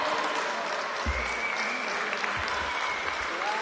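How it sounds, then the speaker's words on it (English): Steady applause from a crowd at a chessboxing world championship final, continuous and even clapping throughout, with a few low thumps underneath. "And a round of applause from the hometown and his Italian countrymen."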